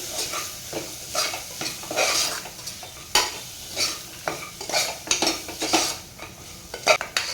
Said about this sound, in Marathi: आणि हे सर्व मसाल्यामध्ये मिक्स करून घ्यायचं आहे